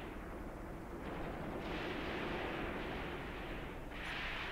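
Enemy weapons firing in the wargame Graviteam Tactics, heard as a steady wash of distant gunfire and artillery rumble with muffled bursts, continuous and fairly faint with no clear individual shots standing out.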